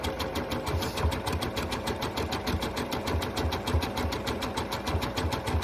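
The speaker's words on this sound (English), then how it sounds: "I will start sewing." A sewing machine stitches lace to entredeux, running at a steady quick pace with a fast, even train of needle clicks and a low motor hum, close and moderately quiet, with no talking.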